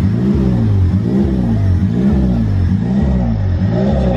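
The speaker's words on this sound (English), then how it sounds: "I don't know if you guys heard that, but my car is idling weird." A car engine idles unevenly because of a throttle body leak, its loud low rumble surging and dipping in a steady rhythmic hunt about once every 0.7 seconds, close by and with no talk over it.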